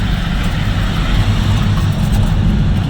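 A heavily loaded goods truck, hauling cargo to Jodhpur, hums with a steady deep low engine drone, loud and continuous from inside the cab, with no talk over it.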